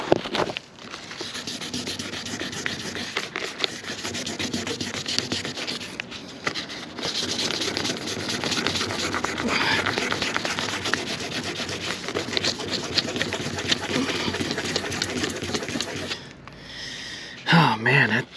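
Wet sanding truck paint by hand with 2000 grit sandpaper, a close, continuous scratchy rubbing in repeated back-and-forth strokes, pausing briefly near the end before resuming.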